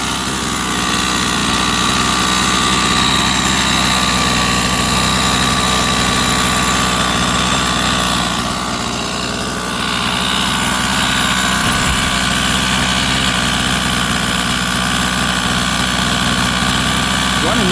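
A Rovan 45cc gas engine runs steadily and loudly throughout, a continuous buzzing drone with no pauses, with a person talking faintly over it.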